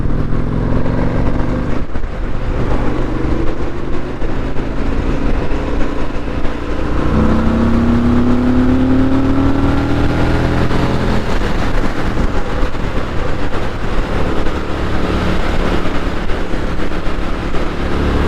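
Motorcycle engine pulling hard along the Cairn o' Mount road between Fettercairn and Banchory in Scotland, a steady loud drone with a rising pitch as the rider twists the throttle and accelerates, no voices over it.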